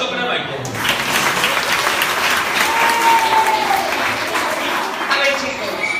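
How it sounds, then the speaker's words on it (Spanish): Children and parents clapping at a school event, a loud, lively wash of applause lasting several seconds with some voices and cheering mixed in. "Un aplauso para Maite."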